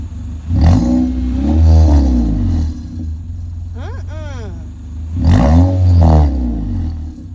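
A 2017 ninth-generation Honda Accord engine revs loudly twice, each rise and fall of the roar separated by a short gap, alongside metallic rattling, with people talking over it.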